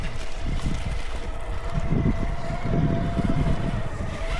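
Steady wind buffets the microphone with a low rumbling roar, and a faint engine-like hum runs underneath throughout.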